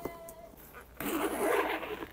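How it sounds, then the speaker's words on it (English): A zipper on a car seat cover is pulled in one quick, close, scratchy run, preceded by soft handling noises of the fabric. "And let's zip it all the way down,"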